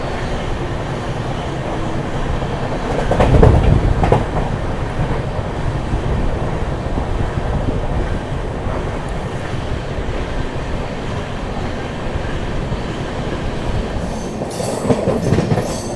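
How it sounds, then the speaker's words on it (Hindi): The Purushottam Express, running from Anand Vihar Terminal to Puri, rolls along at speed with a continuous loud rumble and rattle of the carriages, and a few louder clatters come through along the way. "अभी ट्रेन आ चुकी है अपनी रफ्तार में भाई और बढ़िया भाग रही है"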